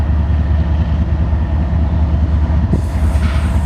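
An eastbound BNSF Railway grain train led by engine 5782 passing close by in Spokane Valley, Washington: a loud, steady low rumble and rhythmic wheel clatter, with a hissing brighter wash of rail noise rising toward the end.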